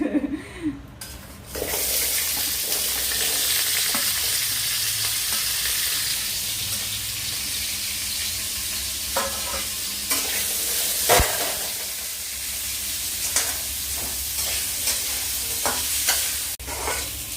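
Chopped potatoes, still wet from washing, sautéing in oil in a pan at home, with a steady loud sizzle and occasional stirring scrapes and clinks of utensils throughout, no talk.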